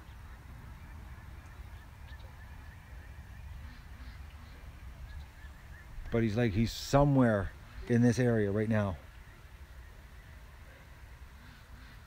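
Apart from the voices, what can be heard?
ducks honking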